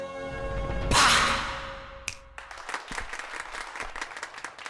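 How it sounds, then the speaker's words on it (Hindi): A group of people clapping in a scene from a Hindi-dubbed South Indian action film. A loud burst comes first, then a steady run of distinct, evenly spaced claps. "वो खुश होकर तालियां बजा रहे हैं"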